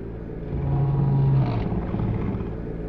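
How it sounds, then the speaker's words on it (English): A boiler in a video game switches on with a deep rumbling drone that swells after half a second, holds a steady low tone, then settles into a continuous hum. "Maybe the sound of the boiler?"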